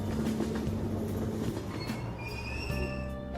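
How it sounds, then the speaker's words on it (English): A train in the video game Persona 5 pulls away from a subway platform, with steady rolling rumble, clattering wheels and rising electric motor whine, continuous and fairly close, with no talking. "Platform number 2, service to Asakusa is departing soon. Please watch your step. Train doors are now closing."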